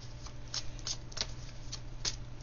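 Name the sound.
shuffling tarot cards to draw one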